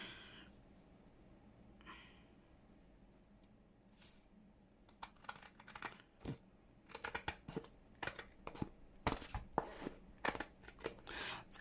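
Scissors cutting through a thick paper envelope, at first a few faint snips, then a rapid run of loud, close, crisp cuts and crunches.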